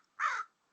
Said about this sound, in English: the crow's talking.